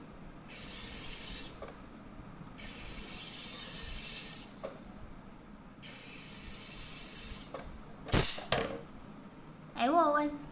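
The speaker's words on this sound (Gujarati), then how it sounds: "આ છે તેની અંદર ગેસ ભરે છે" A soda machine injecting gas into a drink gives several long, steady hisses separated by short pauses, followed by a sharp burst and some squeaky clicks at the end, fairly faint overall.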